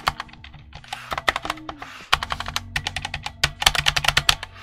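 Typing on a Risophy Pro PC395 full-size keyboard: rapid, close, crisp key clacks in uneven bursts, some with deeper thocky bottom-outs, with no talk.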